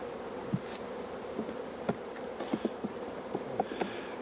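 Honey bees buzzing around an open hive while colonies are split and brood frames moved, a faint steady hum with brief closer passes of individual bees, no talking.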